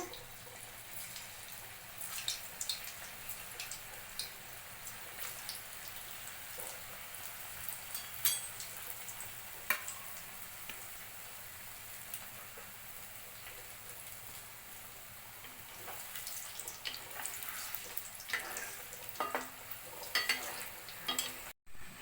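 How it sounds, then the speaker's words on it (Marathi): Raw banana kofta balls frying in hot oil until golden brown, a quiet, continuous crackle and sizzle with scattered sharper pops and occasional stirring, growing busier toward the end. "याला आता आपण तेलामध्ये तळून घेणार आहोत गोल्डन ब्राऊन कलरचे होऊपर्यंत"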